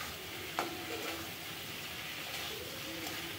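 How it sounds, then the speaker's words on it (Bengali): Spiced potatoes and a paste of cumin and ginger turned in a pan for an onion-free rohu fish curry, giving a soft steady sizzle with a faint scrape of stirring near the start. "এবার দিয়ে দেব কিন্তু ভেজে রাখা আলু এবং মশলা আবারও কিন্তু সুন্দর করে আমরা মিশিয়ে নিচ্ছি"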